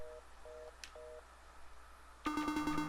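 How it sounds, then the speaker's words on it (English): A telephone handset in a digital game plays three short repeated tones, then a loud steady dial tone cuts in and holds until the end, with no talking. "Dial tone."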